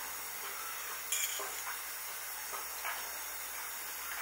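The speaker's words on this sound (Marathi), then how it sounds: "आधी फोडणीसाठी तूप घालून देते." Ghee sizzling and hissing in a pan for tempering, a continuous bright steamy sizzle with a few short louder spits and stirring scrapes, heard up close with no talking.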